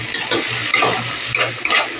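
Chopped garlic and ginger frying in a pan while being stirred, loud close sizzling with quick scraping spatula strokes and a steady low hum underneath.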